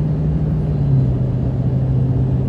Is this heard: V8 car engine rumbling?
yes